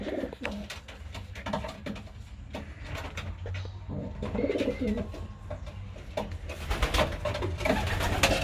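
Pigeons coo steadily in a loft while new pairs are being matched, close and moderately loud, low throaty calls repeating over faint rustling and scattered sharp knocks.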